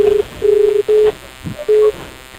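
A phone dialing an outgoing call, with steady tones sounding in three or four separate bursts and short gaps between them, clear and close, with no talking.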